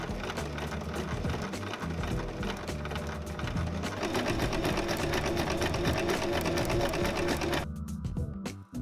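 A regular household sewing machine stitches cotton ribbon onto a handmade dress, running continuously at a fast, even mechanical rhythm, loud and close, then stopping abruptly near the end.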